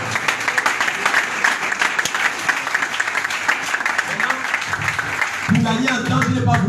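A church congregation breaks into applause and cheering during a sermon, a dense, loud wash of clapping with voices mixed in, ending in a lower murmur.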